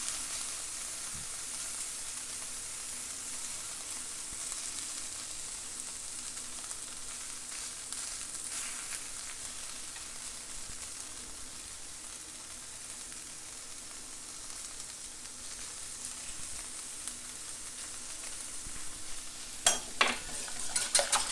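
Leftover food reheating in a pan, spread across it for a meal-prep breakfast, giving a steady, moderate sizzle that runs unbroken throughout, with a few sharper clinks and scrapes near the end.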